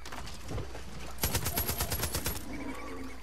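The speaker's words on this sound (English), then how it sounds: "So here I'm going to gun down five bison." Gunfire from hunting bison in the video game Far Cry 5: a lone shot, then a rapid burst of about eight evenly spaced, loud shots followed by a fading tail of ambient game sound.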